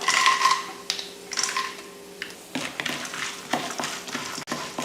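Peanuts and split chickpeas sizzle steadily in hot oil while a spoon stirs and scrapes the pan in irregular strokes, close by, with no talking.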